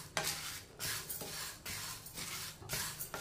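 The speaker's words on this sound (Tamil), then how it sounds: "இதை வறுத்துக்கிடுவோம்." Jowar dry roasting in a hot kadai while being stirred: soft rhythmic scraping sweeps of a spoon with light grain rustle, repeating about every half second, quiet and close.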